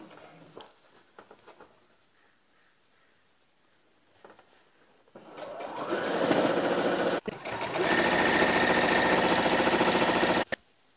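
A sewing machine stitching the buckram-lined hem of a belted salwar, starting after a few seconds of quiet handling clicks and then running in a fast, steady whir for about five seconds, close by.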